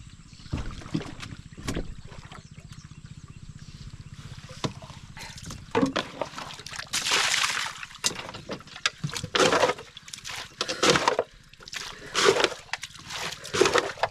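Rainwater being bailed out of a boat on the Krishna river, close splashes and sloshing pours repeating irregularly, with scraping knocks of the bailer against the hull and a low background hum.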